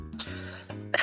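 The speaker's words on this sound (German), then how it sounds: "du hust jetzt richtig widerlich" A person coughing and clearing their throat in a few rough, close bursts, with a harsher cough at the end.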